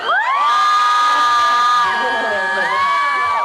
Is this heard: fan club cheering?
yes